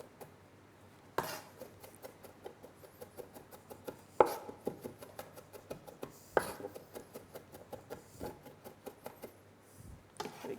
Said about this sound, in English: just running my knife through, as you can see, just chopping that fairly fine